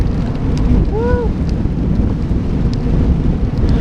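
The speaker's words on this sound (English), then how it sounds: "I'm going against the headwind, blowing toward me." Strong headwind buffets a cyclist's microphone on a windy day, a loud continuous low rumble of wind noise with brief faint tonal chirps, no talk.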